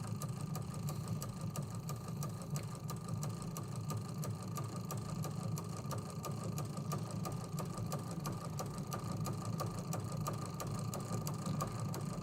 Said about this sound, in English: a walking foot can be much louder the faster you're going